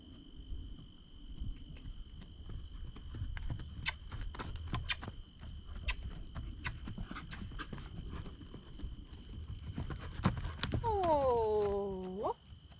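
A horse canters on a lead rope outdoors with rhythmic hoofbeats on the ground, moderately distant, under constant high insect and cricket chirping, with a brief snort or whinny near the end.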